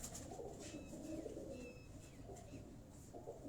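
A Kamgar breed pigeon coos softly in a few low, throaty phrases over a steady background hum, with faint higher chirps from other birds in the distance.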